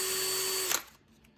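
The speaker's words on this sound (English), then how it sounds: "I'm putting the pieces in a drill, and what I'm doing is I'm spinning the drill" A small power drill spins plastic model car pieces while they are shaped down, a steady high whine that stops abruptly partway through and winds down to quiet.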